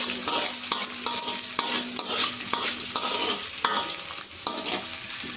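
Onion, black pepper, cloves and green chili fry in oil over medium flame for egg malai curry, with a continuous sizzle and regular spatula scrapes against the pan roughly every half second.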